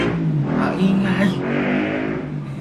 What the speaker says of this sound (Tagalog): Ang ingay, daming sasakyan dumadaan.